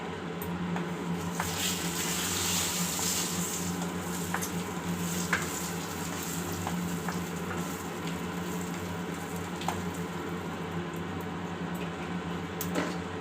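Mustard seeds spluttering in hot oil for a vegetable tokku with brinjal, potato and tomato, a continuous sizzle dotted with small sharp pops and crackles at close range, with no voices.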